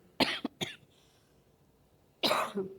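Several sharp coughs up close: a quick burst of two or three, a pause, then one more heavy cough.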